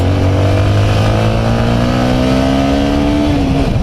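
A Yamaha M-Slaz or MT-15 motorcycle engine revs loud and close continuously, its pitch climbing steadily higher over several seconds with a rough, buzzing tone.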